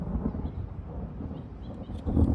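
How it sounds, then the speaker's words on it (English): Low, rolling thunder rumbles outdoors near a garden, a deep continuous murmur that swells a little toward the end, heard alone without talk. "Thunder."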